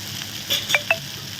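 Paneer frying in a pan, with a steady soft sizzle under three quick metallic spatula clinks close together.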